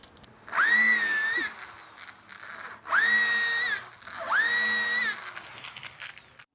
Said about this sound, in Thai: ส่วนด้านบนเดี๋ยวผมเจาะแบบทะแยงนะครับ